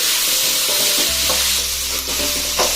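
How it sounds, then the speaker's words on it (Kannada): Cabbage and green peas are stir-fried in a pan, giving a steady close sizzle with scraping stirs throughout. "ನೋಡಿ ಇವಾಗ ಇಷ್ಟು ಫ್ರೈ ಆಗಿದೆ ಫ್ರೈ ಆದರೆ ಸಾಕು"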